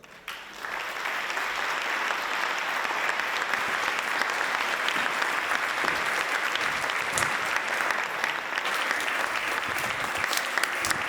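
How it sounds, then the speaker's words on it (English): Sustained audience applause fills the room after a keynote talk on AI and the future, a dense steady wash of clapping that swells in within the first second and holds at an even level for about eleven seconds. "that's a very long applause that we're getting for you here, Ramy"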